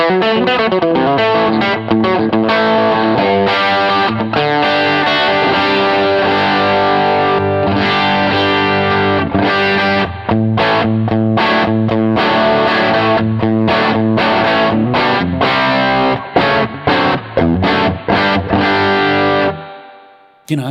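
A distorted electric guitar with a Telecaster-style tone, driven through an overdrive pedal into a Redsound power amplifier, plays chords and riffs loudly for about twenty seconds before cutting out near the end.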